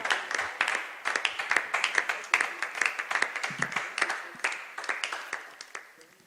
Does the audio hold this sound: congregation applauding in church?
yes